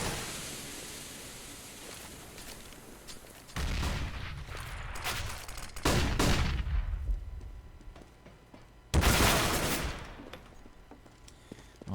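Gunfire in a competitive shooter video game, with a few loud, separate bursts of shots and impacts that rise suddenly out of quiet ambient game noise.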